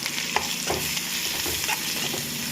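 Spices with salt and turmeric sizzle steadily in a hot pan while a spoon stirs through them with soft scraping strokes, close and continuous.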